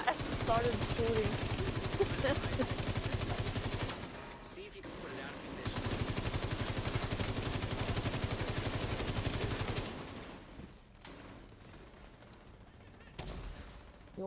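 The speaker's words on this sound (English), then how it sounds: "I just started shooting" Rapid automatic gunfire in the video game The Division 2, long sustained bursts of rattling shots with a pause between them, then quieter game ambience, with people talking faintly.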